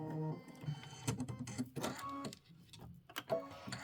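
An embroidery sewing machine stitches a design, giving off a fairly quiet, irregular series of clattering, rattling stitch bursts with brief pauses between them.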